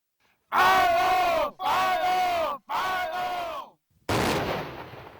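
Three long shouted calls, then a single heavy blast, as combat engineers at Camp Pendleton set off C4 charges; the explosion hits sharply and rumbles as it fades.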